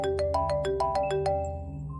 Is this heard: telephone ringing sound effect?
yes